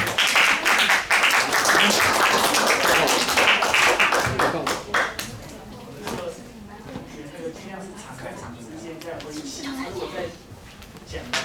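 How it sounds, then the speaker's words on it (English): An audience claps loudly for a group of students at a high school bilingual class exchange, dense rapid clapping for the first few seconds before it fades and people talk over a few scattered claps. "Let's give them another round of applause."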